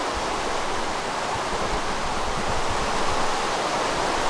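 Flowing water current washing seeds and wheat down a channel in a video game farm, a steady broadband rush with no breaks, alone.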